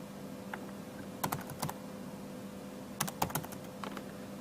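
Keystrokes on a computer keyboard, typed while entering a name into a registration form: a few short bursts of quick, clicky taps separated by pauses, fairly close and clear with no talking.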